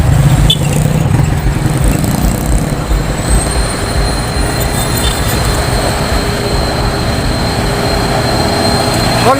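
Heavy trucks in a convoy hauling pipes, a Hino among them, roll past loudly and close. A continuous rumbling, rattling roar runs throughout, with a thin high whine held above it.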